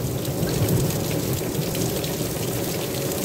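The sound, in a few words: thunder rumbling during rain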